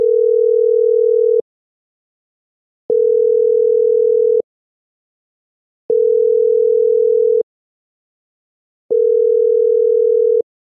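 A steady single-pitch telephone tone sounds in four even bursts, each about a second and a half long with matching gaps of silence, loud and clean with no voices.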